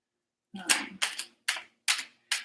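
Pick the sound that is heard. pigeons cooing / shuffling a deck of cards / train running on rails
shuffling a deck of cards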